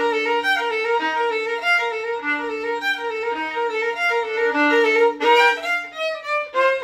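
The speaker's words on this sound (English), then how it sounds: "Why do all the violins we're familiar with look and sound like this?" A violin plays a continuous melody of sustained, bowed notes with rich overtones, close and fairly loud, with no voices over it.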